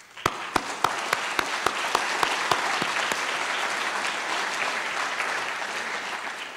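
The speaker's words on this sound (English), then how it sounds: "we can honor them with our applause." Audience applause at the AZCIV 2011 summit, a dense steady wash of many hands that begins with a few sharp, distinct claps and then holds at an even level throughout, with no talk over it.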